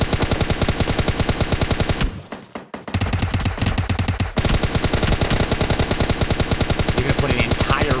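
Rapid automatic gunfire in PUBG Mobile, a dense rattling burst that runs nearly the whole time, loud and close, broken by one short pause before the firing resumes.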